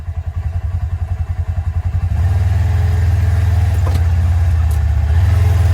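A loaded truck crawls over bumpy ground in low-range four-wheel drive while hauling firewood, its engine droning low and steady, with rhythmic pulsing jolts at first before settling into a continuous heavy rumble with faint clatter.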